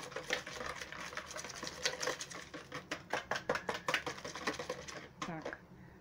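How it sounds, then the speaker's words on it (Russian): A spoon stirs sugar, salt and water for dough in a bowl, making a rapid run of scraping clicks and taps against the sides, close and steady, with some speech faintly underneath. "Все это перемешиваю до растворения сахара и соли."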